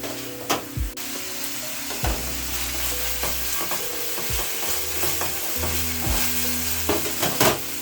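Garlic frying in a pan sizzles steadily while a utensil stirs and taps with repeated clicks and low knocks, close and fairly loud; no one talks.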